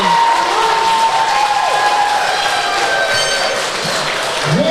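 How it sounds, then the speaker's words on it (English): A crowd at a women's powerlifting meet erupts in loud cheering and applause for a new British squat record, continuous clapping with shouts and whoops, near and energetic throughout. "And the crowd literally goes wild."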